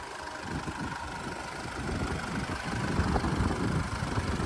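A 2020 Alfa Romeo Giulia engine idles steadily with a low, even rumble, close by and continuous, with no voices.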